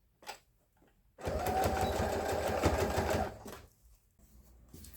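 A sewing machine stitches a quilted pumpkin hot mat in one fast, steady burst of about two seconds between short pauses, close and clear with no talking.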